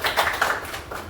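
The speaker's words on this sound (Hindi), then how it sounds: "तो एक जोरदार तालियां आइए।" Scattered hand clapping from an audience at a weekly company meeting at an Ayurvedic centre, a short burst of uneven claps that fades within about a second.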